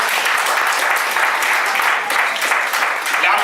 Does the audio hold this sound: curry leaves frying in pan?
no